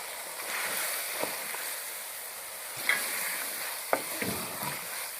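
Tomatoes dropped into a spiced beef and okra curry, a quiet steady sizzle with a few sharp clinks and stirring knocks against the pot, heard close up.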